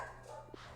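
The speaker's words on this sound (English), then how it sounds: "Probably see if you can hear the dogs barking." Dogs bark in the background of a house, a single faint, brief woof over low room noise.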